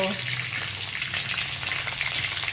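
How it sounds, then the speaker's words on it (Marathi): Cumin seeds and curry leaves crackle and sizzle vigorously in hot oil for a tempering, a loud, dense, continuous frying hiss heard up close, with no voices. "चल तेलाची फोडणी त्याच्यामध्ये जिरं टाकलं कढीपत्ता टाकला"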